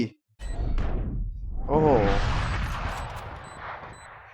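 Rapid gunfire in the tactical shooter Valorant, a dense stream of shots swelling after a brief silence and rolling on loudly, with layered impacts and game effects; a voice is heard talking over it.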